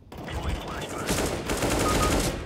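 Gunfire in CS:GO roars as a dense, continuous burst of rapid shots with some voice underneath, loud and sustained throughout.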